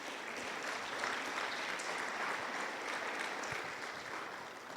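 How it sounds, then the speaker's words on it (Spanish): Church congregation clapping together in steady, sustained applause during a Spanish-language worship service, a dense wash of hands filling the room without pause. "Démosle palmas a nuestro Rey."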